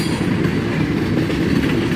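A freight train near New Miami Yard gives a steady, loud, close rumble of rolling cars and wheels on rail, with no voices.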